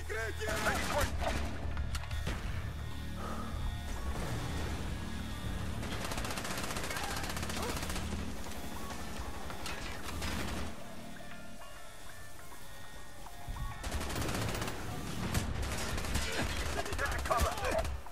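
Call of Duty Black Ops gunfire: dense bursts of automatic weapon fire and shots in repeated clusters, loud and close, with a quieter stretch in the middle, mixed with game sound and occasional voices.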